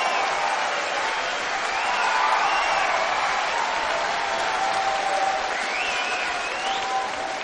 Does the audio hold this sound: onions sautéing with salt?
no